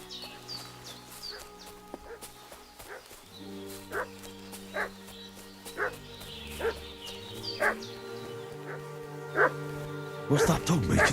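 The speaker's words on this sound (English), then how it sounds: "What's that dog making such a fuss about?" A dog barks in the medieval video game Kingdom Come: Deliverance II, sounding as a series of sharp, fairly faint barks repeating every second or so amid ambient village sounds, with a louder flurry near the end.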